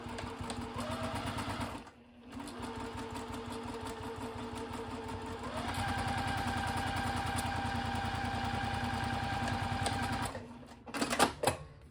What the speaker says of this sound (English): I'm going to stitch that down.